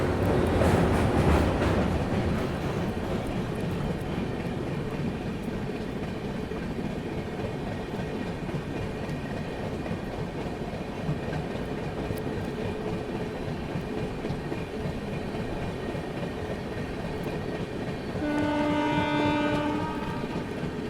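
Ahmedabad Gorakhpur Express rolls on with steady rumbling and clattering wheels as another train passes beneath on a bypass line, the rail noise continuous and near, with a long horn blast sounding near the end.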